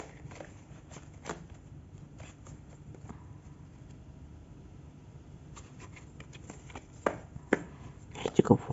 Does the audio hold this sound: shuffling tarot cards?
yes